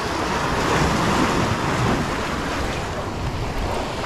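Strong sea waves surge steadily at a murky-water fishing spot, a continuous loud roar of surf mixed with wind buffeting the microphone, with no voices.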